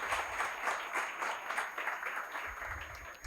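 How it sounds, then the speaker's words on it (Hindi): Audience at an assistant professor interview workshop applauds loudly to welcome a guest speaker, a steady dense burst of clapping lasting throughout. "एक बार जोरदार ताली बजाकर सर का स्वागत करेंगे।"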